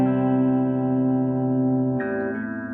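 A sustained electric guitar chord rings through a 1959 Gibson GA-8 Gibsonette tube amp with the tone turned fully down, held steady and warm before shifting to a brighter chord near the end.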